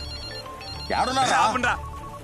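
A phone rings with a trilling electronic tone for about a second in a film scene, close by, over a low background hum.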